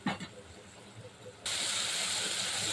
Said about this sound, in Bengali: এবারে আমি একটু জল দিয়ে দিচ্ছি অল্প করে জল দিলাম